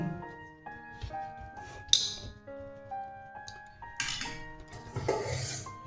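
A dish covers paratha dough made from semolina and flour; a few light clinks and ringing metallic tones sound close by as the cover settles into place, with no one talking.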